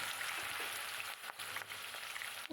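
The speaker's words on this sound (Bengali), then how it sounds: "কচুটা এখানে আমি সাদা তেল দিয়ে দিলাম হালকা করে একটু ভেজে নেব" Pieces of taro sizzle steadily in white cooking oil, a dense, even crackle that runs the whole time with no one speaking.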